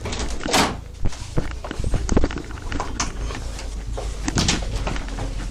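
A door opens in an upstairs small room during a police house search under a warrant, heard as several sharp knocks and clunks over a steady background hiss and rumble.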